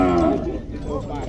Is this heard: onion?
no